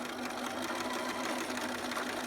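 A sewing machine runs a continuous zigzag stitch through stretchy fabric with sticky tape, giving a steady, close, even mechanical whir with no pauses.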